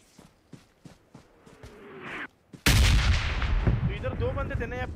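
Loud SKS rifle fire in the battle royale game BGMI bursts in suddenly after quieter footsteps and movement, followed by sustained gunfire and echoing shots.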